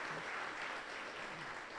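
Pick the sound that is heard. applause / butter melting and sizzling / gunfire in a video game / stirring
applause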